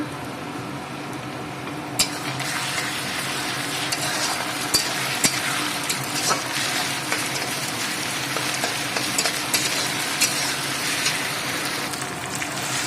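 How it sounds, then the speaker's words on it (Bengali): Ginger garlic paste frying in a pan with a steady, close sizzle, a spatula stirring and scraping throughout with occasional sharp clicks, in a kitchen where meat is being cooked. "এক চামচ আদা রসুন বাটা দিচ্ছি"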